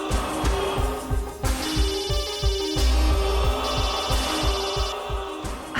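A telephone bell rings repeatedly in a steady pulsing rhythm, loud and close, alone with no talk over it and a low throbbing hum underneath.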